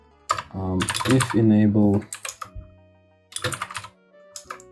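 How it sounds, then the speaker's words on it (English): Typing on a computer keyboard while scripting in Roblox Studio, short bursts of key clicks mixed in with someone talking over them. "I really can't type today."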